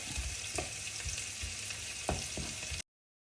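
Garlic sautés in a pan until lightly browned, giving a loud steady sizzle with a few stirring knocks before it cuts off abruptly.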